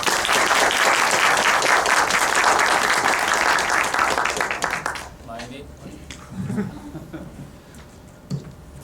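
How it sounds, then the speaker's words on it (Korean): An audience at a Korean policy conference on the creative economy applauds warmly to welcome a science ministry vice minister, a dense burst of clapping lasting about five seconds. It then drops away to faint room noise with brief speech. "자, 그러면 뜨거운 박수로 우리 이석준 차관님을 환영해 주십시오."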